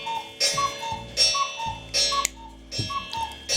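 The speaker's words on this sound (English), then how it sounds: "that's the chalet clock running in the background" Black Forest chalet cuckoo clock ticking in a workshop, a steady rhythmic tick-tock of the mechanical movement repeating about every half second, clear and close with no voices.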